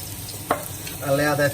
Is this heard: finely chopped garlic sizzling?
yes